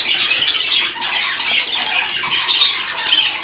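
Budgies in a breeding bird house keep up a constant busy chatter of squawks and squeals, dense and fairly loud throughout with no pauses.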